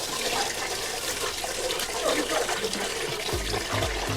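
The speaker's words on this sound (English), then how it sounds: "Put in the rice first, and then wash 3 times" Water sloshes and swirls as sushi rice is washed in a container, with gurgling, splashy movement and a few low knocks near the end.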